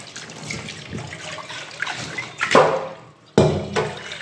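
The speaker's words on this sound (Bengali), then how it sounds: "আবার জল ভর্তি করে নিয়ে নিলাম।" Water runs from a tap into a bowl for soaking raw mangoes, a close splashing trickle that swells and shifts, with a sudden louder gush near the end.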